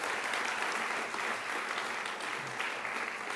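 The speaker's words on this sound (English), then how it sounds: "Please stand, and you are deserving of a round of applause." Audience applause fills a hall at a UN Women gala celebration, a dense, steady wash of many hands clapping throughout without a break.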